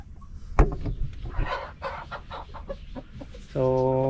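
Chickens cluck in short, irregular bursts close by, ending in a longer drawn-out call.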